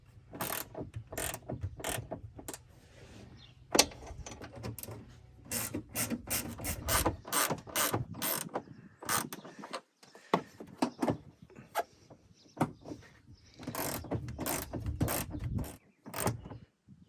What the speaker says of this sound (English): Now we'll tighten up the nuts on the firewall down below by the tire here. I'm just using a little 13mm flex head ratchet wrench.